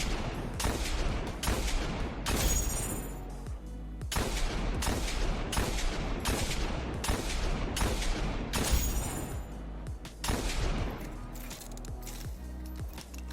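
The Hawkmoon hand cannon fires in Destiny 1 PvP: loud, punchy shots about every second over a constant low rumble, with a few bright metallic ringing tails in between.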